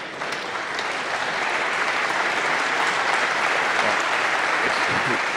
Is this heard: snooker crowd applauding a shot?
yes